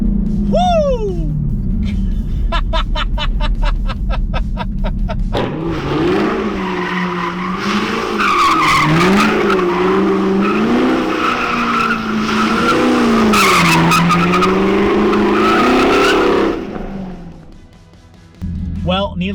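A Chevrolet Camaro with engine mods accelerates hard, its tires skidding and squealing in a long, loud howl over a rising, wavering engine note, with brief excited shouts before and after.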